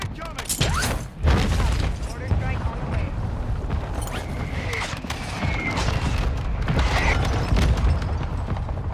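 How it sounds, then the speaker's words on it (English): Mortar strikes in Call of Duty: Modern Warfare II land as heavy booms and rumbling blasts, loud and dense, mixed with gunfire and battle noise while a voice talks over the chaos. "Mortar support"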